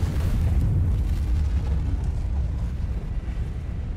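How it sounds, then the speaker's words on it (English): A massive explosion in Star Citizen's space combat rolls out as a heavy, continuous low rumble. It stays loud and dense for several seconds and then slowly thins. "Yeah, that was a massive explosion."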